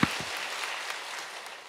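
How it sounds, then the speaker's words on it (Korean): Congregation applause at a Korean Wednesday church worship service, a broad, even wash of many hands clapping at a distance, fairly soft and steady without speech. "박수로"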